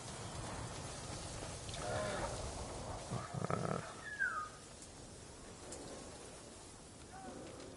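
Predator animals, including a bear, fighting in the Ghost of Tsushima video game, growls and snarls heard faintly at a distance amid wind and ambient game noise, with a brief louder burst midway.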